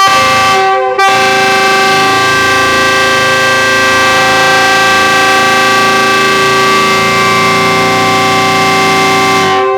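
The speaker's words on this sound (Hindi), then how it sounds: "विसल की आवाज़ आने लगी है" A long, loud passenger train whistle blares steadily for several seconds with a rich harmonic tone, starting abruptly and cutting off near the end, as the train arrives.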